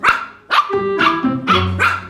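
Several sharp, high-pitched yappy barks from young dogs, overlapping in quick succession and close by, with no speech.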